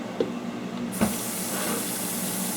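A hose is switched on partway through, its steady broadband rush of running water starting abruptly after a couple of faint knocks and continuing close by.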